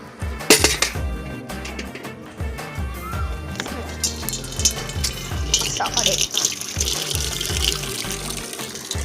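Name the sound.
watering plants with water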